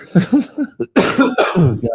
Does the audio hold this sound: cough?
yes